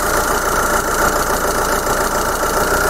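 A steady car engine idles continuously with the air conditioning system running, a constant low rumble and faint knocking texture, no voices present.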